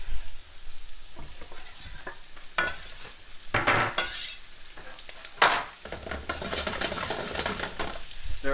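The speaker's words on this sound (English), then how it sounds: "first we're going to stir the pasta a little bit to make sure it's not sticking" Gemelli pasta being stirred in a pan with sausage and kale, uneven bursts of scraping and sizzling as the utensil moves, with quiet gaps between strokes, close up and no talking.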